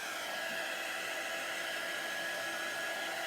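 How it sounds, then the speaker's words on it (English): Hair dryer blowing on chalk paste over a craft wreath, a steady loud whooshing hiss that holds constant throughout without pauses or talk. "I'm going to hit this with the dryer for just a minute to make sure that I don't smudge it"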